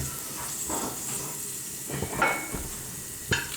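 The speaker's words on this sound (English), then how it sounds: "so you can see it's sizzling" Soft steady sizzling and hiss of onions frying in a pan nearby, with a few light scrapes and clinks of stirring.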